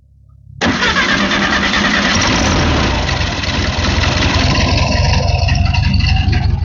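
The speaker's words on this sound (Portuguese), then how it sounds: "vou mostrar então aqui o motor funcionando perfeitamente" Volkswagen Beetle (Fusca) engine cranks and catches, then idles with a loud steady rumble close by, the tone settling slightly as it runs.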